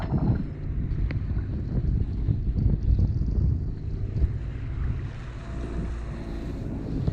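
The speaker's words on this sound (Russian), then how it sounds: "Приличная волна." A boat pushing slowly through large waves on Lake Onega in Karelia before an autumn storm, with a steady low rumble of engine and water slapping against the hull under constant wind buffeting the microphone, and no voices.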